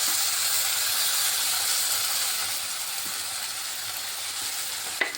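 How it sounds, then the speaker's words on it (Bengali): Rice with cumin and ground ginger fries in a pan, giving a steady loud sizzle and hiss that runs throughout with occasional stirring scrapes and a sharp clink near the end. "এখন এই মশলাটা ভালোভাবে ভেজে নিচ্ছি"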